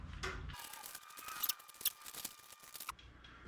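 Fishing rods and reels being untangled and unwrapped, heard up close as crisp rustling and sharp snipping, plastic-like crackles in a quiet room with no talking.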